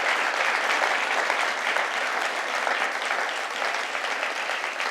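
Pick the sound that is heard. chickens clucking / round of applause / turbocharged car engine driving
round of applause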